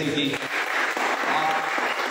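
Dense audience applause welcoming a speaker at a live Ayurveda event, a steady wash of clapping filling the room, with a voice briefly speaking over it.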